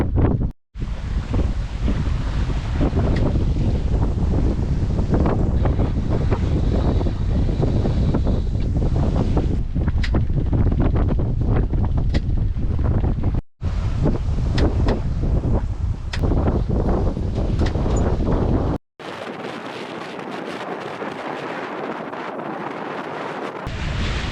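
Heavy wind buffets the microphone aboard a sailboat at sea, a loud continuous roar with water and surf beneath, briefly cutting out twice before settling into a softer rush.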